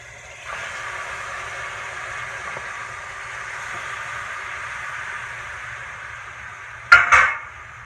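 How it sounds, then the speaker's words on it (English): Shrimp go into a pan of hot olive oil, bringing a steady low sizzle that runs through the clip and a brief sharp clatter near the end. "I put a little bit more of olive oil in the same pan. You don't have to rinse it. You're gonna add your shrimp."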